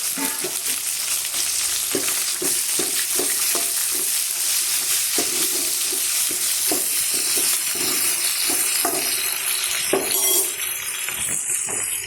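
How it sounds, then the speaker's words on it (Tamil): Okra sizzles and fries in oil in a pan for tamarind curry, a continuous bright hiss broken by repeated clinks of a utensil stirring against the pan. "அதுக்கப்புறம் மறுபடி காய போட்டுக்கலாம் வெந்தயக்காயை"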